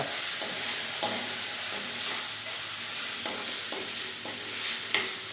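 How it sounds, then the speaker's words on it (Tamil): Onion and garlic sauté in a hot pan, a continuous close sizzle broken by a series of sharp scraping spatula strokes at irregular intervals. "ஆனியனும் பூண்டும் இதில் போட்டுக்கலாம் நல்லா வதங்கட்டும்"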